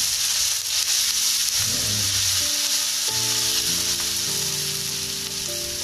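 Garlic sizzles in hot oil in a pan for mie goreng, a steady close crackling hiss with brief stirring scrapes and a low background hum.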